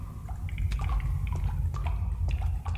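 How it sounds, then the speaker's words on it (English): Water drips and trickles in Resident Evil 4, scattered irregular droplets plinking near and far over a low, steady background rumble. "Hear the water coming down?"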